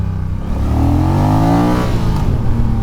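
A 2024 Honda Rebel 1100 motorcycle accelerates close by, its engine note rising steadily through a gear with loud throaty harmonics, then easing off, with wind rumble underneath.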